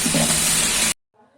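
Coriander and mint leaves sautéing in a large pot for a 4 kg chicken dum biryani, a loud, broad steamy hiss close up that stops abruptly, followed by brief faint sound.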